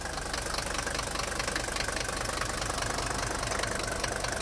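Mercedes G-Class engine idling with the hood open, a steady close mechanical chatter with fast, even ticking and knocking over a low hum, no voices.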